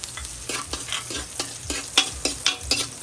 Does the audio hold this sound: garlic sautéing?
yes